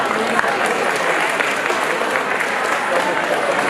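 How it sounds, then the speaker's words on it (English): A crowd at a Mother Language Day celebration in Arizona gives a dense, sustained round of applause, loud and even throughout. "let's give each of you a round of applause"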